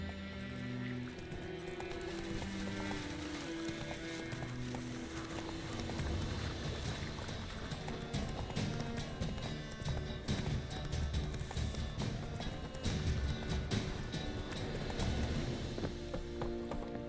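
Roach, a horse in the video game The Witcher 3, trots with a steady rhythm of clip-clopping hooves, joined by background game sounds.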